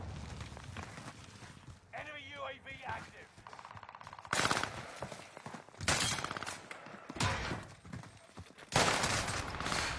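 Video game gunfire cracks in rapid bursts and sustained automatic volleys, loud and close, broken by quieter gaps, while several voices talk over the shooting.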